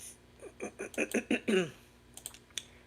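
Rapid clacking of a noisy keyboard and clicker at a home work desk, a quick run of keystrokes at moderate closeness followed by a few scattered sharp clicks, with no talking.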